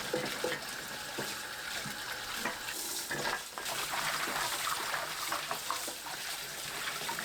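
Garlic scapes are washed under running water, a steady splashing rush with small clatters and sloshes as the stalks are handled, heard close up. No voices.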